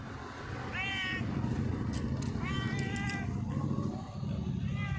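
A cat meows several times, with clear, drawn-out, wavering calls close by over a steady low background hum.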